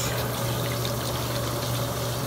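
Water runs and splashes steadily at a sink during a skincare face wash, a constant close rushing flow with a faint low hum beneath, and no one speaks.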